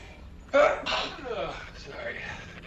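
One sharp, loud sneeze bursts out close to the mic, then fades into a breathy tail and quieter throat noise.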